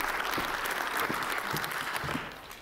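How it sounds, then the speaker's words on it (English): Audience at a green finance panel event gives a warm round of applause, dense steady clapping from many hands filling the room for a couple of seconds before tapering off slightly. "he still deserves a warm round of applause"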